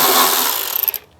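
A ratchet loosens a 12mm bolt while a rock slider is installed on a short-bed Toyota Tacoma. A dense, close whirring rasp fades into a few quick separate clicks, with no talking.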